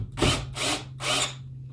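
A power drill drives screws into a school bus conversion, three loud close whirring bursts in quick succession with brief pauses between them, no voices.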